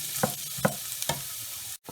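Garlic frying in a pan for chilli chicken, a soft sizzle under a few sharp scraping stirs of a utensil against the pan, close and clear, with no talking.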